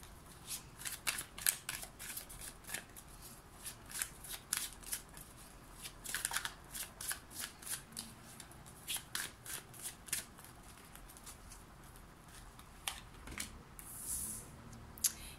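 Tarot cards are shuffled close up in quick, rhythmic riffling bursts that keep going with brief pauses, with no talking.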